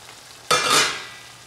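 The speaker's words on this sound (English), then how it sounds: "The sauce is kind of boiling." A pan of sauce on a home stove bursts into a loud, bright sizzle as it hits a boil, with a sharp onset that swells and then settles into a steady hissing fry, close and alone.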